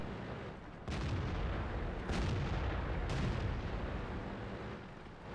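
Tank cannon fire in World of Tanks, a match on the Erlenberg map: three sharp booming shots roughly a second apart over a steady low rumble of battle ambience, fairly distant-sounding.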